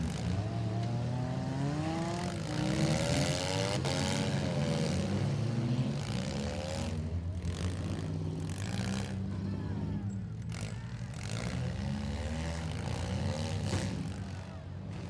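Several demolition derby cars rev and roar around a fairgrounds arena in Lawrence County, Ohio, engines rising and falling in pitch, loud and near, with crowd murmur underneath.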